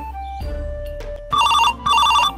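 A phone ringtone plays two bright, loud electronic ring bursts in quick succession, following brief background sounds.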